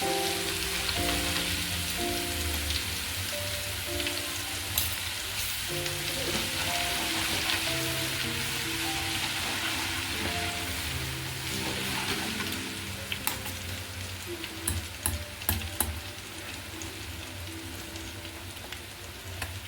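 Ginger-garlic paste fries in a generous amount of hot oil for chicken pickle, making a continuous close, rain-like sizzle and crackle that runs loud and even for about twenty seconds, thinning toward the end.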